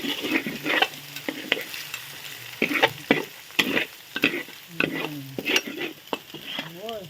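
Fried rice with garlic, egg and pork is stir-fried in a pan, a sizzle punctuated by irregular scraping strokes of the spatula, close and moderately loud.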